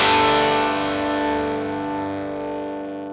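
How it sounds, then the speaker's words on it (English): A boost pedal overdrives an electric guitar with asymmetrical clipping. A single strummed chord rings out with a bright, gritty distorted attack, then sustains and slowly fades over a few seconds. "You can hear that it's biased slightly differently because it feels a bit like asymmetrical clipping"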